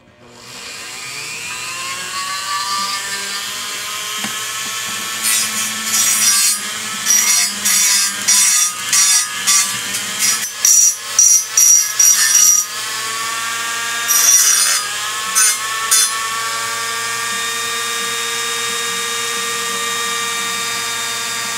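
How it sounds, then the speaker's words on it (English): A Dremel rotary tool grinds and ports an aluminum intake manifold, a steady high whine with a series of rhythmic bursts as the bit bites into the metal, close and loud throughout. "Getting the Dremel out."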